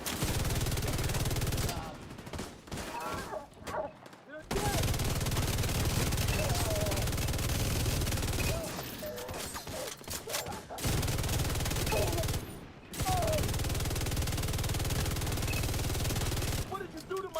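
Sustained bursts of video game gunfire rattle through most of the stretch, broken by brief quieter gaps, dense and loud throughout.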